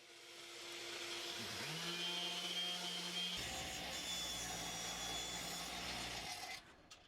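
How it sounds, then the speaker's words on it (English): Quiet electric sanding of a wooden cutting board, cleaning up router marks, with a humming motor and a gritty rubbing texture, the pitch shifting as pressure changes, running steadily for several seconds. "A quick sanding just cleans up the router marks"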